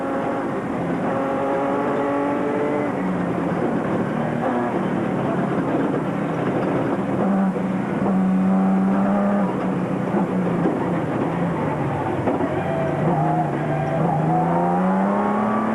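Rally cars, including a Nissan pair, race during the 2004 Carnival City 400 with loud, sustained engine drone whose pitch rises and falls as they accelerate and shift.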